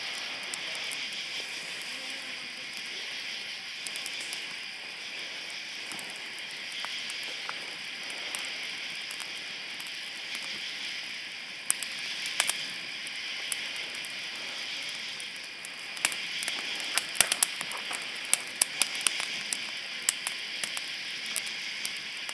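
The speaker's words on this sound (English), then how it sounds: "this is our first campfire at Sharando Lake" Campfire crackling at Sherando Lake campground in George Washington National Forest, with a steady hiss and scattered sharp pops that grow busier toward the end, close and fairly quiet, with no voices.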